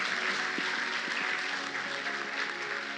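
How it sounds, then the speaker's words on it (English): An audience at a leadership keynote claps in a soft, continuous patter, fairly distant and even throughout. "Give a round of applause."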